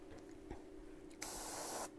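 An airbrush loaded with black paint abruptly starts spraying on its own, a steady close hiss that runs for about half a second over a faint background hum.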